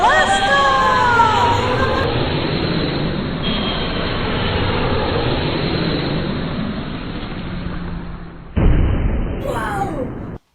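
A rocket blast-off effect from a children's space show: a loud, rushing, roaring whoosh that holds for several seconds, then cuts to a sharp burst and a short excited voice.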